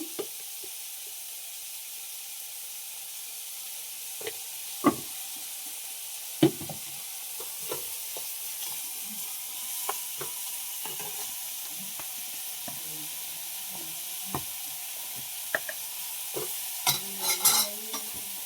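Vegetables wilting in a hot pan for a home-style curry side dish: a steady, close frying hiss runs throughout, broken by scattered spatula taps and scrapes that bunch together near the end. No one speaks.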